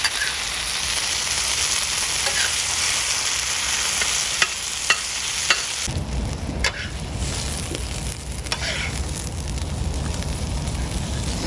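Food sizzles and crackles in a hot pan, a steady loud fizz with occasional stirring and scraping, no talking.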